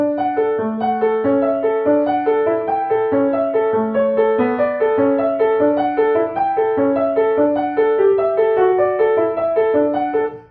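Piano plays Burgmüller's "The Limpid Stream" as a steady stream of evenly weighted notes in two-note slurs, a flat, mechanical rhythm over a low accompaniment, no voices.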